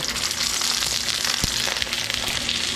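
Birria tacos fry steadily in a generous layer of avocado oil in a pan, giving a close, continuous crackling sizzle with one sharp pop.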